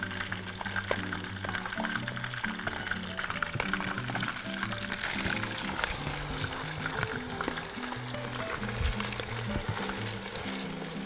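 Chicken pieces, cut into eight, browning in a pan for a chicken stew, steady close sizzling and frying with light crackles, under soft background music.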